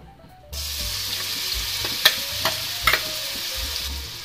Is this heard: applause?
no